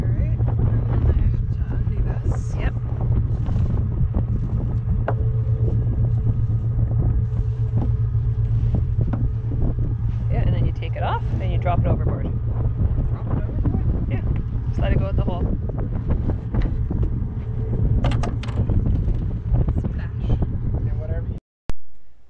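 A constant low boat engine hum and rumble drones throughout, mixed with wind noise and people talking intermittently over it.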